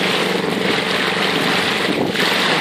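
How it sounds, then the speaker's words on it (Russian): A Sea-Pro 5 hp outboard motor running on a small 2.9 m Kalibri boat in Kazachya Bay, Sevastopol, during break-in, a loud steady drone mixed with wind and water rush. "Вот, прогрелся мотор."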